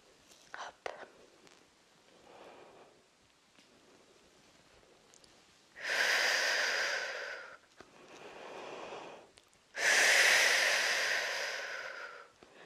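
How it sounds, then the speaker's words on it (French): Deliberately loud yoga breathing: a few soft breaths and small noises, then two long, strong breaths a few seconds apart, close and unaccompanied. "je fais une respiration plus forte pour que vous entendiez à quel moment j'inspire, à quel moment j'expire"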